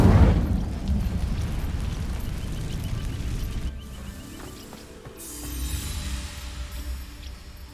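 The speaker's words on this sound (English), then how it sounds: "These dry vines are one spark away from becoming kindling. Incendio!" A fire spell ignites dry vines in Hogwarts Legacy, opening with a loud whooshing burst and rumbling boom that settles into a steady crackling roar of flames, swelling again near the end.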